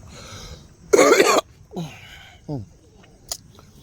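A single harsh cough close to the microphone, followed by a few softer throaty sounds and breaths.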